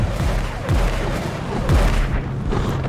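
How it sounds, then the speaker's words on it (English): Airstrike explosions in Fortnite, a series of loud, rumbling booms and blasts rolling one after another over a steady noisy game background. "Oh, they're airstrikes."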